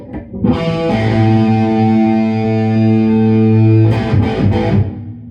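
Electric guitar played through a Carl Martin Headroom Mini reverb pedal with a driven tone: a sustained strummed chord rings out with a reverb tail, followed by a few loud, choppy re-struck chords near the end, with no voices.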